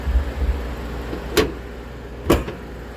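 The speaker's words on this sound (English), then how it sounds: "Allow me to close the hood here." Hood of a 2008 Nissan Sentra being settled shut, two sharp close metallic thuds about a second apart over a low background hum.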